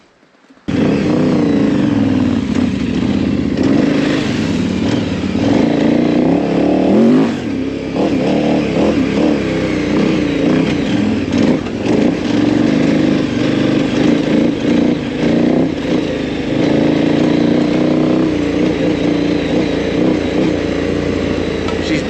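A motorcycle engine runs with a loud, continuous, throaty idle and rough rumble, punctuated by several throttle blips and revs across the whole stretch.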